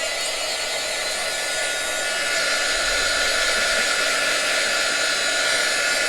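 A hair dryer blows steadily on chalk paste laid over a screen stencil, a loud, continuous broadband whoosh that holds its level for the whole stretch with no voices.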